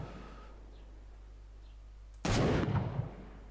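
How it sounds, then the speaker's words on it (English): A single gunshot from a GameGuru engine game demo, a sharp loud crack with a short decaying tail after a stretch of quiet low hum. "Perhaps we shoot this one, then you can see when I shoot here."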